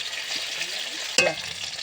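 Rohu fish pieces frying in hot oil are stirred and turned in a pan, a soft continuous sizzle broken by one sharp clank of the utensil against the pan near the end.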